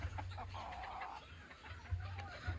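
Domestic chickens and roosters kept at home in Fergana, Uzbekistan, cluck in short repeated bursts, fairly faint with a low rumble of movement and background around them.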